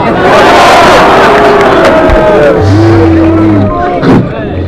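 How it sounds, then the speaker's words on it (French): A crowd at a French political rally cheers and shouts loudly, with a dense roar of voices and rising chant-like calls filling the space. "je suis très ému de vos acclamations"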